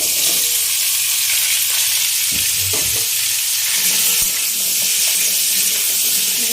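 Pui saag and pumpkin, added after chilli, bay leaf and five-spice, fry loudly in a pan with a dense, close sizzle and a couple of scraping stirs partway through, with no talking.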